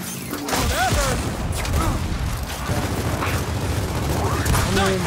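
Gunfire in a Gears of War 4 multiplayer match (Swarm Imago map, King of the Hill), a dense, continuous clatter of shots and booms that runs the whole time, with a voice coming through now and then.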